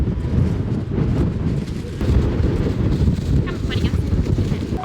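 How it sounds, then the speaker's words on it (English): Strong wind buffets the microphone on the open sun deck and smoking area of a ferry off southern England, a continuous low roaring rumble with gusting surges throughout. "Well, that was a bit windy."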